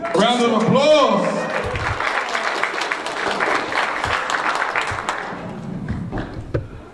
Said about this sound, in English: Just in time. Round of applause.